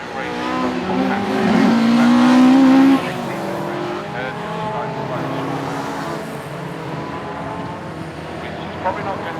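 Hot hatch race cars rolling around Castle Combe circuit on a green flag lap, a steady mid-distance engine drone with a rising whine, under continuous commentary.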